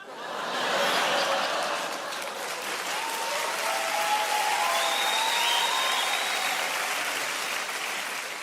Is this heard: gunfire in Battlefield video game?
no